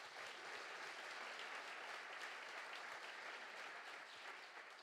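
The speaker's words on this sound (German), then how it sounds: "Ein herzlicher Applaus für eure Landesvorsitzende." Audience applause at an SPD political rally in Bremen: steady, even clapping from a crowd indoors, sustained throughout at a moderate distance with no break.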